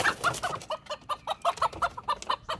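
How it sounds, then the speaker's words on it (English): Two hens and a rooster cluck in quick, repeated bursts while being fed their morning scoop of feed, close by and fairly quiet, with a steady rhythm of short calls. "I've got 2 chickens and a rooster, so I usually just get 1 egg a day"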